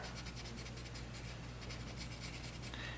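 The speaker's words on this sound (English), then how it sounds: "take a Sharpie and we're going to draw" A Sharpie marker is drawn freehand across skateboard grip tape, making a faint, close, gritty scratching in quick repeated strokes.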